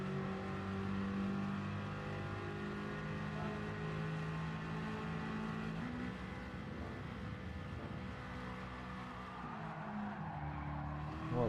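Car engine in a racing simulator played on a Fanatec DD1 F1 wheel setup, a steady sustained engine drone with harmonic bands throughout, fairly loud and continuous with no clear spoken voice.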